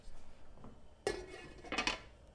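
A metal lid set down on a cooking pot of chickpeas simmering for chana masala, heard as a sharp clanking clatter followed by a second rattling clink, fairly close and quiet in an otherwise still kitchen.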